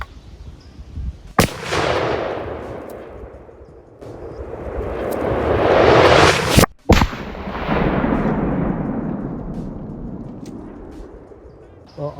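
Loud, close gunshots from a Browning BAR MKII Safari rifle: a sharp crack near the start, then a second blast with long rolling echoes that fade slowly across the open air, with no voice over them.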